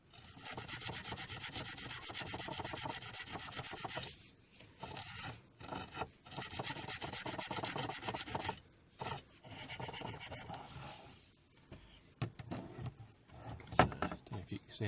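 Wire wool scrubs rust from the metal parts of a Commodore Amiga 500 Plus in steady rasping strokes that stop and start, with a couple of short pauses and a few sharper scrapes near the end.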